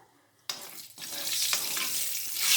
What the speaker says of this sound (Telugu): ఇప్పుడు పోపు వేసాను కదా, పోపు కొంచెము మనకు వేగాక